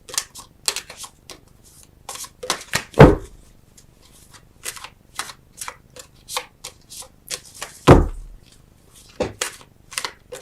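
Tarot cards being shuffled and drawn by hand: a run of soft, papery flicks and riffles with two heavier thumps as cards are slapped down, close and fairly loud, with no talking.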